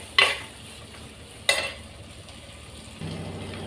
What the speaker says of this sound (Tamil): கொஞ்சமாக உப்பு போட்டுட்டு நான் வதக்கிடுவேன்